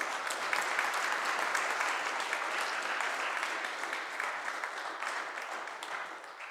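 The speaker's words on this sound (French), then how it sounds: "Elles méritent aussi nos applaudissements" A church congregation claps at Christmas Day mass, a dense, even round of applause heard alone that holds steady and then slowly thins toward the end.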